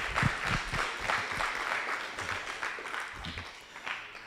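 Applause from an audience at a gaming hackathon winner announcement, a sustained patter of clapping lasting several seconds, fairly dense and moderately loud, slowly thinning toward the end.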